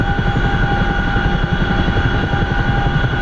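An MH-47 Chinook helicopter flies in the DCS combat simulator, its heavy rotor thump and engine whine forming a loud, steady, continuous drone with no voices.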